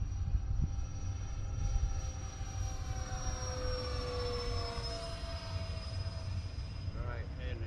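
E-flite A-10 Thunderbolt II 64mm EDF RC jet flying past with a steady, sustained whine of the ducted fans, heard at moderate distance over continuous outdoor wind rumble, with a faint voice in the background.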